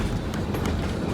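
A train rolling along the Georgetown Loop railroad tracks, a steady low rumble with faint clatter, continuous and fairly close throughout.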